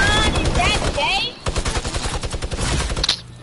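Rapid gunfire from a minigun in the Fortnite video game, a fast stuttering burst filling the second half after a stretch of excited talking over game sounds.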